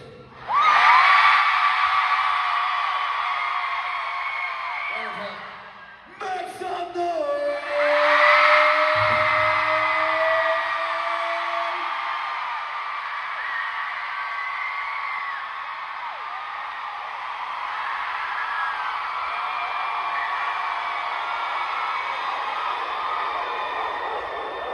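A concert crowd at a show in Chicago screams and cheers in a loud, sustained roar that dips briefly and then swells again, with high shrill cries running through it.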